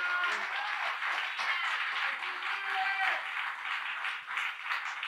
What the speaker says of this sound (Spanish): Aplaude a Dios, dale gloria.